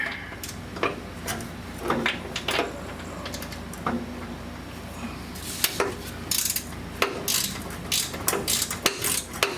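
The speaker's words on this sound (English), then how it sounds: "The electric ratchet, that is." An electric ratchet works on transmission bolts of a 2003 Lincoln Aviator with burned clutches, giving sharp intermittent clicking bursts and metallic knocks at close range, with short pauses between runs.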